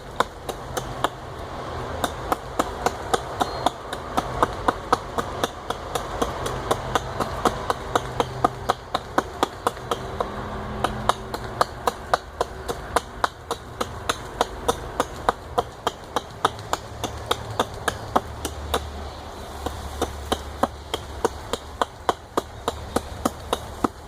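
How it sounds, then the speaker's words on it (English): Sharp hatchet hacking through a wrist-thick branch outdoors, a rapid run of sharp, crisp chopping strikes repeated steadily throughout, close and loud with no talk. "You should be able to hack through it, especially if your hatchet is nice and sharp."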